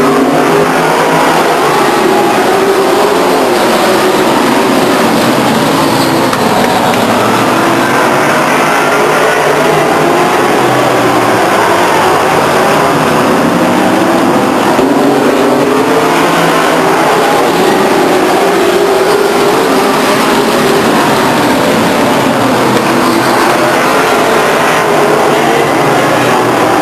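Race cars roar around Stockton 99 Speedway at the start of a race, a loud continuous wash of engine noise with rising and falling revs as the pack circles the track.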